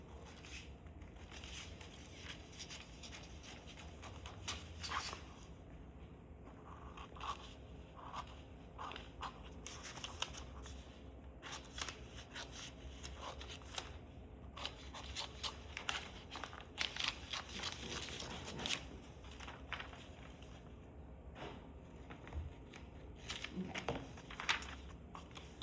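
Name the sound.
cutting paper pattern around the edges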